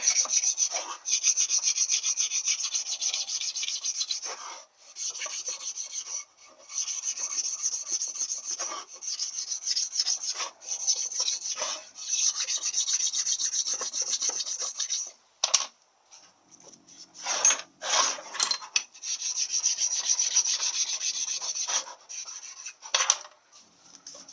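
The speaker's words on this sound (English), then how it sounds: "Just clean up those little bits of gasket there." Old gasket residue scraped and stoned off a cast-iron Powerglide transmission cover for a Chevy rebuild: close, dry rasping strokes in long runs with brief pauses, gritty and even, no talking over it.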